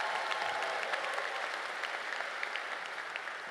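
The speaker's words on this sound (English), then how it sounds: "one more big round of applause to the class of 2026 and class 4" Steady, dense applause from a crowd at a K-12 academy graduation ceremony honoring the class of 2026, evenly sustained throughout with no voices over it.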